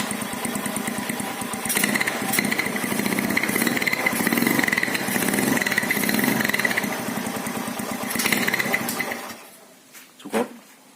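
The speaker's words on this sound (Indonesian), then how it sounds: "Knalpot sudah ganti Gapro Primus ini" A motorcycle with a Gapro Primus aftermarket exhaust runs close and loud, its rapid rasping exhaust note rising in blips over steady idle before cutting off, followed by a brief sharp sound near the end.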